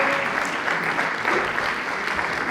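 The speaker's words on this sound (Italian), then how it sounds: "Un applauso." Dense, steady applause from a theatre audience, a continuous wash of many hands clapping at close range and fairly loud throughout, with no pause.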